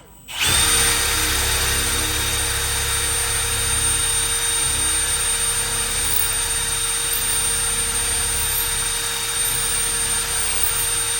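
A power drill with an 11/64 bit bores holes for cabinet handles through a metal drilling jig, a loud steady high whine that kicks in abruptly and holds unbroken, close up and alone.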